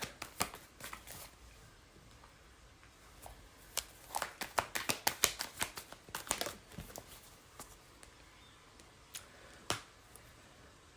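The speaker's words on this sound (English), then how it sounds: "Lots of cards falling out." Tarot cards being shuffled, with a flurry of soft riffling snaps and flicks as cards slip out of the deck, quiet and close, then a few isolated taps.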